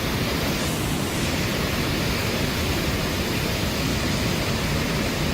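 Waterfall at Brooks River rushing steadily, a dense, loud, unbroken roar of falling water with no pauses.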